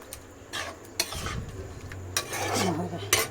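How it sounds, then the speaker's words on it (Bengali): A utensil scrapes and rubs against a pan while stirring a pointed gourd and shrimp dish, giving repeated rasping strokes over a low, steady hum of the stove. "এবার এইটা দিয়ে একটু ভালো করে নাড়তে হবে"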